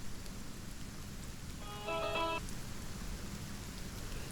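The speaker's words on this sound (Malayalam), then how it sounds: "ഓ, മഴ തീരുന്നില്ലല്ലോ." Steady rain falls in a soft continuous hiss, fairly faint and even throughout, with a brief electronic tone chiming in the middle.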